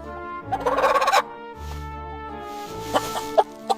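Poultry clucking and gobbling close by, a burst of squawky calls followed by a few sharp clucks, with a low background hum.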